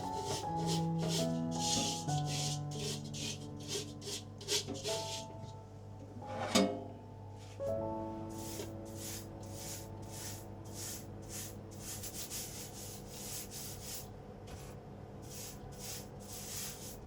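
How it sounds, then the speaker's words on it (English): Baking soda paste is scrubbed onto burnt air fryer parts in a rapid, repeated rubbing rhythm of short scratchy strokes that continues throughout, close and fairly quiet, with a soft musical backing underneath. "Apply the paste directly onto the burnt areas"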